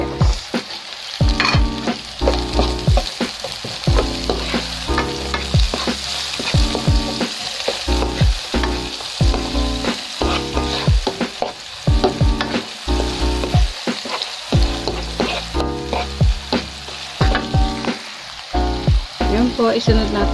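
Chopped onions sauté in a hot pan for a tofu and water spinach dish, steady loud sizzling broken by repeated rhythmic scraping and stirring strokes of a spatula, close up.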